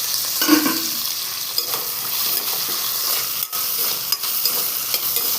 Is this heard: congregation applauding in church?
no